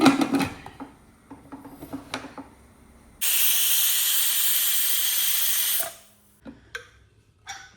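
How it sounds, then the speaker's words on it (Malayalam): A pressure cooker holding a pork roast lets out a loud, steady hiss of steam for about three seconds mid-clip, cutting off sharply, with faint kitchen clatter and ticks before and after. "ഒരു വിസിൽ വരുന്നവരെ വേവിച്ചെടുക്കാം"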